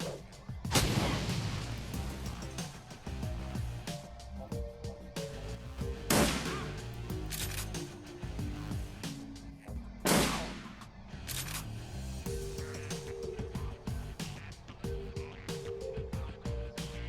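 Gunfire and blasts from the video game Shadowrun Returns, with several sharp, loud bursts over a constant low rumble of game music and ambience. Grenades are thrown during the fight.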